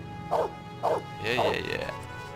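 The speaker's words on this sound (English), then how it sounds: "Good dog. Good doggy." Dog barking in the Blade Runner video game, two short barks followed by a longer whining yelp, close and fairly clear.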